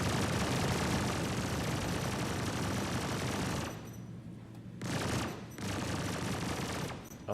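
Rapid sustained gunfire from a ship's cannons in the space game Star Citizen, a dense, loud barrage that cuts out briefly in bursts before resuming.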